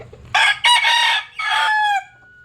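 A derby fighting cock crows loudly and close by, giving one full cock-a-doodle-doo with a long trailing final note.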